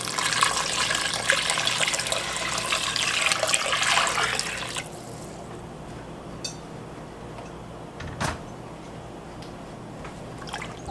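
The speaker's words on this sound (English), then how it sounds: "I am going to add the remaining 8 cups of water." Water pours into a pot of butter beans for about five seconds, a close, bright splashing rush, followed by near quiet with a few faint clinks and one sharper knock.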